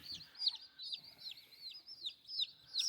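Baby chicks peep steadily in a shelter being readied for an Alaska winter, a rapid series of high, thin chirps coming close and fairly loud, with small pauses between bursts.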